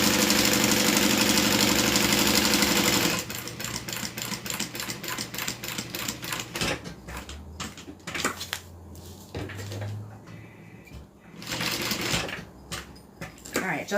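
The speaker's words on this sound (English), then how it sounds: "While I'm sewing down, I want to make sure I do not sew over those threads." A sewing machine stitches down thread ends on a custom order piece, starting with a steady loud motor whir and then breaking into rapid, clattering bursts of stitches with brief pauses between runs.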